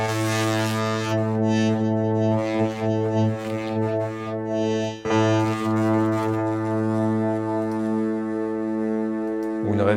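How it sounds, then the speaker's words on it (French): Sustained synthesizer tone played on an Expressive E Touché controller, routed through a distortion effect, giving a dense buzzing drone with a rich stack of harmonics. It holds steadily and loudly for about ten seconds, with a brief dip midway. "je pourrais tout à fait mettre par exemple une distorsion à la place"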